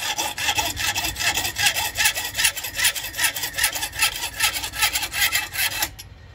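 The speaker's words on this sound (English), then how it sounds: "in the vise, mark off, take it out, ready for cutting, and cut it off" A hand saw cuts a piece held in a vise while making a powder flask, with steady, rhythmic back-and-forth strokes rasping loudly and close for several seconds before stopping abruptly.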